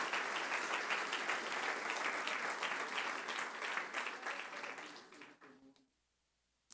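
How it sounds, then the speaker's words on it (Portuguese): A church congregation gives a strong round of applause to Jesus, many hands clapping in a full, steady roar that thins out and stops near the end. "dê um aplauso forte para o Senhor Jesus"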